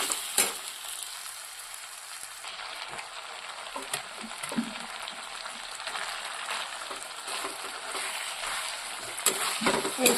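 Spices sizzling and frying in oil in a pan on a home stove, a steady soft crackle with occasional sharper pops and stirring scrapes, moderately quiet and close.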